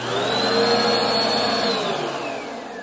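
A Bissell PowerForce Helix Turbo 1701 upright vacuum cleaner runs steadily with a loud motor whine and airflow roar, its pitch shifting slightly before easing down, close by with no talk.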